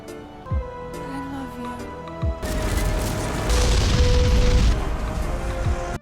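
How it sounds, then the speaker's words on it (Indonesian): A sudden loud blast cuts in over a tonal musical passage, followed by a sustained roaring rumble of an explosion that stays loud for several seconds. "sesaat kemudian mesin itu meledak."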